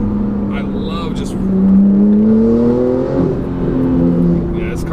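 A tuned, turbocharged Porsche 911 991.2 Carrera 4S accelerates hard, its engine note climbing in pitch through a long pull. A brief shift follows, then the rise resumes. The engine is loud and heard from inside the car, with people talking over it.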